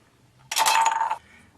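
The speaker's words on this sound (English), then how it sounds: "Next step, very simple, is to just cut it in half. This is where the scissors make things a little easier." Scissors cut through an aluminium beer can with a single brief metallic snip and crunch, close and crisp against near silence.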